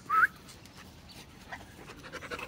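A wild dog at a wild dog reserve pants steadily and quietly nearby, breathy rhythmic huffs after a brief higher whine at the start.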